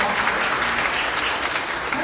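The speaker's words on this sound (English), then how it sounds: "give them a big round of applause" A crowd at a county fair's Little Miss and Mister contest claps loudly and steadily in a short, dense burst of applause.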